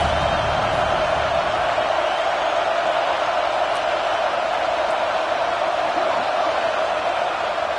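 A home crowd roars continuously in a football video game, a dense, loud, unbroken wash of cheering that holds steady throughout.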